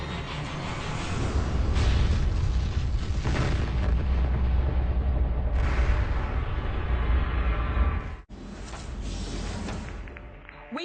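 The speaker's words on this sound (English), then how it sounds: "precisely at the time of the scheduled launch, there was a horrific explosion" A rocket explodes at its scheduled launch after an engine malfunction: a sustained, loud, roaring blast with rumbling bursts lasting several seconds, a sharp cutoff, then a renewed roar.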